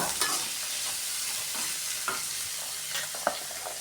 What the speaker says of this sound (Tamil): அப்புறம் தக்காளி எல்லாம் 1 by 1 போட்டுட்டு அப்படியே நல்லா வதக்கிக்கோங்க